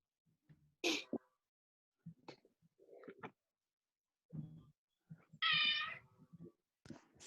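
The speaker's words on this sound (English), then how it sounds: "Someone just stand on a cat." A cat meows several times in short separate bursts, one loud, high cry standing out among quieter calls in an otherwise quiet room.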